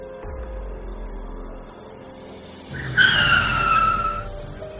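A car on a deserted road brakes suddenly as a story sound effect: after a low engine hum, tires squeal loudly in a sharp, sustained skid that holds near and prominent to the end, with no voices.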